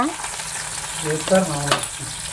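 Food frying in hot oil in a pan, a steady close sizzle with brief stirring scrapes and clinks, no talking.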